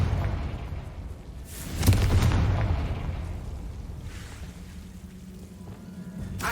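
A Confringo blasting curse from Hogwarts Legacy bursts in a single loud boom that decays slowly into a rumbling tail, with faint game ambience behind it.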